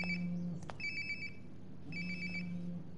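A phone rings in the video game Life Is Strange: Before the Storm, two bursts of a bright electronic ringtone with a short click between them, faint and without speech.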